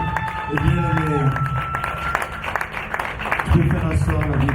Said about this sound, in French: Applaudissons pour le bien-aimé.